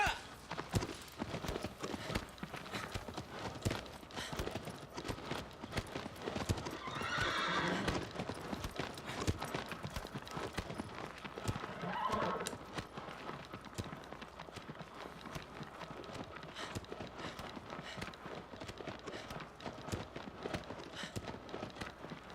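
Horse galloping in Shadow of the Colossus, steady rapid clip-clop hoofbeats running throughout at close range with occasional whinnies and a voice talking over the action.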